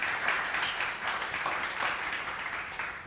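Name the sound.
audience applause welcoming panelists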